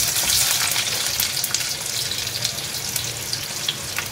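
A chopped onion sizzles loudly in hot oil with cumin and mustard seeds, a dense, continuous frying crackle with scattered pops, close and steady throughout.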